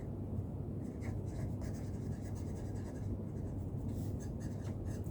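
A pen writes out a maths solution by hand, giving a continuous, soft scratching and rubbing close to the microphone over a low, steady background hum.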